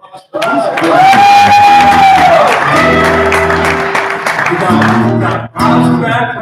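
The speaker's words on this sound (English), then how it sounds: "how about a round of applause for us?" Church congregation applauding and cheering for the praise team at a Wednesday night service at Grace Gospel Fellowship Church, loud and sustained, mixed with sustained musical tones and voices, dipping briefly near the end.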